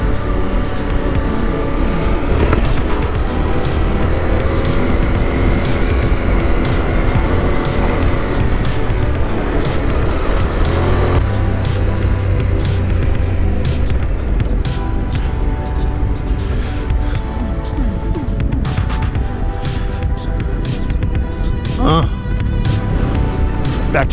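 A motorcycle ridden along a Washington backcountry trail: a continuous loud engine drone with shifting revs and gear changes throughout, and a person talking over it.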